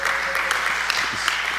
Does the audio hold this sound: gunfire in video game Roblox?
no